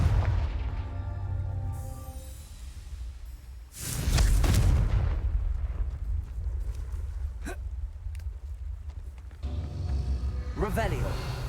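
Confringo, an explosive fire spell in Hogwarts Legacy, goes off as a loud booming burst near the middle over steady game ambience and music, with a sharper crackling blast toward the end.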